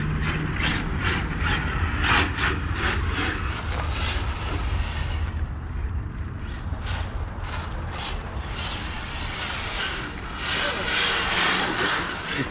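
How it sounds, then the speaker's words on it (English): A Jaguar street car engine rumbles deep and steady, swelling in a series of quick throttle blips, while a voice talks over it outdoors. "Just tapping the throttle, 4S."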